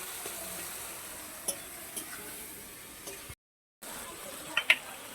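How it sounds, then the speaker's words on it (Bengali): Green jackfruit frying in plenty of oil, a steady soft sizzle with a few light stirring taps, broken by a brief gap of silence before the hiss resumes. "তেলটা একটু বেশি হয়ে গেছে একটু ভালো করে এটাকে ভেজে কষে নেব"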